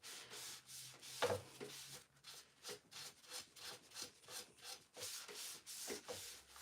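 Damp cloth rubbed back and forth over a painted wooden nesting table for wet distressing, a steady rhythmic scrubbing of about a dozen strokes, close and alone.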